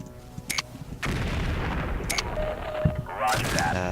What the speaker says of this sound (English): There's a lot of exploding sounds going on I'm not a big fan of.